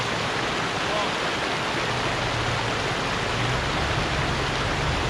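Water rushes in a constant loud roar as an off-road vehicle, a 2-inch lifted Honda Passport following a Land Cruiser 100 and Lexus GX470, drives through it, with a low engine drone underneath.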